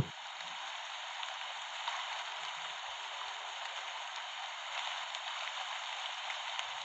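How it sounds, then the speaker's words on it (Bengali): Steady rushing water from a small monsoon waterfall on a jungle trek, a constant broad hiss without pauses, close by and moderately loud. "কিছু দূর যেতেই আরেকটা ঝর্ণা।"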